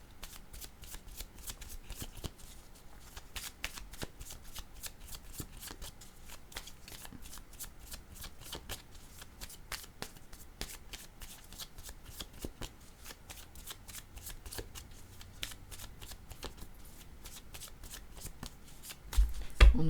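Tarot cards shuffled by hand in steady, close riffling bursts that run throughout, with a brief louder handling at the end and no talk.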